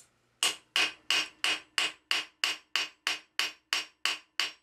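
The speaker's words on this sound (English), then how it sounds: "I'm using a light hammer to start the rivet and to see how everything is going" A light hammer starts a rivet on blacksmith-made shop dividers, striking twelve sharp metallic blows at a steady, even pace, each ringing briefly before the next.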